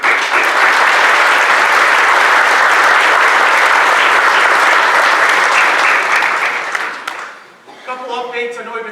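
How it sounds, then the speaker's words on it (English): A room full of people at a school board meeting claps loudly and steadily for the road commission and crew, a dense, even applause that holds for about seven seconds before fading into someone speaking. "give the road commission a round of applause and my crew"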